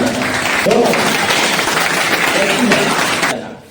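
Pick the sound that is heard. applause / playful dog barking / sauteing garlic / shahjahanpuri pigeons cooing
applause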